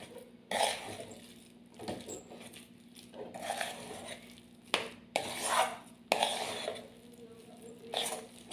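Sandwich masala being mixed in a bowl with a spoon, irregular soft scrapes and clinks of utensil against the bowl in bursts, close by, with a steady low hum underneath.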